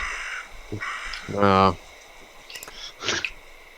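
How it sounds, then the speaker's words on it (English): A crow caws several times at moderate distance, harsh and repeated in short bursts, with a voice speaking nearby between the calls. "a friendly crow to remind us that the day is not yet over"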